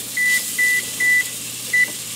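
An oven control panel gives four short, clear electronic beeps while the temperature is set, evenly spaced and close, over a faint steady hum.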